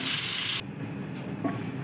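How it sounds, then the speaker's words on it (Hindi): A loud burst of hissing steam for about half a second cuts off abruptly, leaving a quieter hiss and a light clink. "अब हम चूल्हे को बंद कर देंगे और ऊपर से प्रेशर कुकर का ढक्कन उतार देंगे।"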